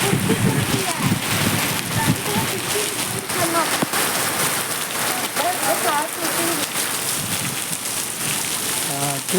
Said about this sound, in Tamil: சாமி மழை மழை சாதாரண மழை இல்லை, பேய் மழை மாதிரி இந்த மழை அடிக்குது.